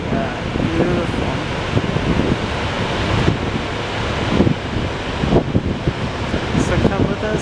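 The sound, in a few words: water rushing at a waterfall in Norway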